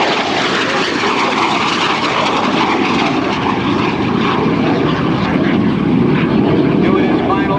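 An F-16 and an F-4 Phantom II fly past together at a 2005 Naval Air Station Oceana airshow, a loud sustained jet roar rising toward the end, with an announcer talking over it.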